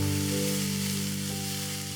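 Capsicum sizzling as it fries in a pan for a homemade chicken wrap, a loud continuous hiss with a steady tonal hum beneath, no voices.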